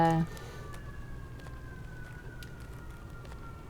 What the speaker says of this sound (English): Sorry if you hear the sirens